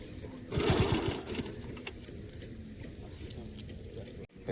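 A motor-driven pump machine runs steadily beside a pond being drained to catch fish, a continuous low mechanical drone with a louder burst early on, sounding in the open air.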